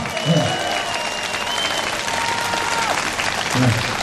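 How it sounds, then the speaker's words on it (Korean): Steady applause from a large crowd at an outdoor national rally at Seoul Station, continuous and moderately loud throughout with a few louder swells. "뜨거운 박수 한번 보내주시기 바랍니다"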